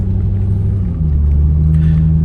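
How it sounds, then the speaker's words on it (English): Loud, close low rumble of a car's engine and road noise heard from inside while driving over speed bumps, with a slight shift in pitch partway through; no talk. "Hold on, what are with these speed bumps"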